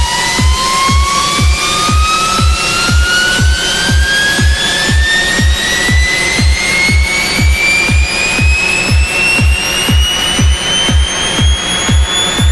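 Tuned riser synth effect made in Logic Pro X, a bright tone gliding slowly upward over a steady, fast pulsing beat, loud and continuous with no talking.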